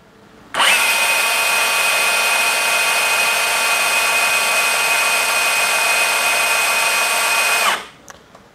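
Bosch GBH cordless brushless rotary hammer run at full speed for about seven seconds, a loud steady high-pitched whine that starts abruptly, holds constant, then spins down, with no talking.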